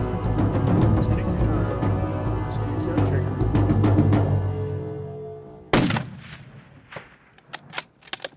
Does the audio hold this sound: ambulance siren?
no